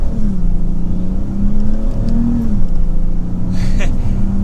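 A 2022 Dodge Charger GT AWD pulls hard through its gears in manual mode, the engine note climbing and dropping with each shift in a steady, loud drone heard from inside the cabin.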